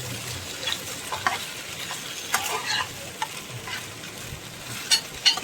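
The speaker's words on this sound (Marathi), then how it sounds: "आणि ते पटापट परतून घ्यायचे छान." Veg manchurian stir-fried over a high gas flame as a thin cornflour slurry is added, with steady sizzling and frying hiss and repeated scraping stirs of the spoon against the pan, close and alone.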